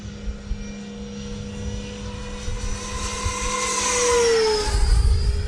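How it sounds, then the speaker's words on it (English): A high whooshing whine of a 90mm ducted fan RC jet, a Freewing F/A-18C, flying by, the pitch sweeping down as it passes close overhead, loud and steady with no voices. "That FMS motor, man, it's just incredible the way it pushes that air."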